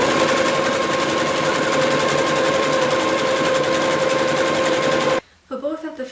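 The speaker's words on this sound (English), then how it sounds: "I will now put a zigzag around the cotton fabric and the chiffon fabric so that it won't fray." A sewing machine runs a continuous zigzag stitch along the edges of cotton and chiffon fabric, a steady, close, loud whirring hum for about five seconds that then stops abruptly, leaving a few faint clicks.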